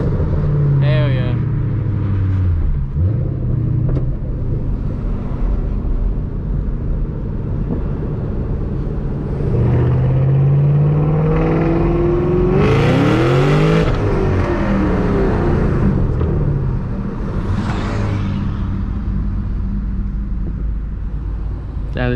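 A Ford Mustang Shelby GT500 with a smaller supercharger pulley and Lund tune revs loudly up close, with rising and falling engine sweeps and a sharp high whine mid-way; a voice speaks over the engine at times.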